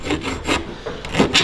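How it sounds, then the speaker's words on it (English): Rough edges of a freshly cut hole in a universal van awning rail are smoothed with a file or sandpaper, giving a series of close rasping strokes in an uneven rhythm with short pauses between them. "File or some sandpaper is going to be our friend here. Just take the rough edges off of that."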